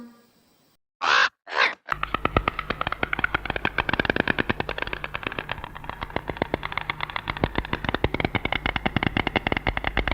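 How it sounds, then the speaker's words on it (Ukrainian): A stork makes a long, rapid, dry clattering rattle that continues steadily for several seconds and follows two brief harsh calls at the start; no talking. "Лелека."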